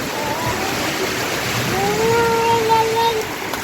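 Heavy storm rain pours down steadily over flooded rice fields, a dense unbroken hiss that fills the whole stretch, with a faint tonal voice-like sound rising briefly in the middle.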